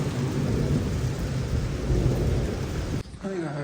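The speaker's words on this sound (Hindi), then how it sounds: "देखो बिजली भी ज़्यादा करी है।" Heavy thunderstorm with rain, a dense roar of downpour and rumbling thunder close by that cuts off abruptly near the end, followed by brief faint voices.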